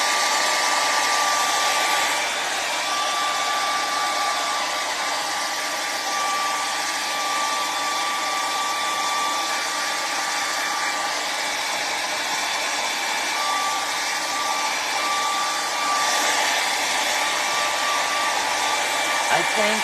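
A hair dryer blows continuously at close range, drying decoupage on a three-tier stand, a loud steady whirring roar that holds the whole time with only slight shifts in tone.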